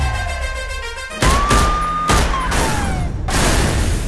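Gunshots ring out in an action film trailer as several sharp, loud bursts over a dramatic score with whooshing effects.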